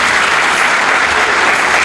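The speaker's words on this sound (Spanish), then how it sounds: "gracias por el aplauso para ellos también" Steady, loud audience applause fills a ceremony where certificates are handed to newly elected local officials, a dense unbroken wash of clapping with no voices over it.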